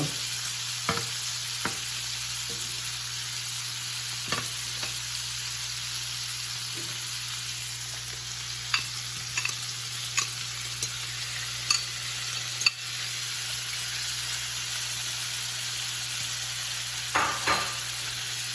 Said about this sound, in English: I'm going to do the outside skirt steak. Get that going too.